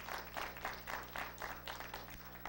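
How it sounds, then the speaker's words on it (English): A church congregation claps together in a rhythmic, evenly pulsed beat, faint and somewhat distant over a low steady hum. "Give the Lord a hand clap."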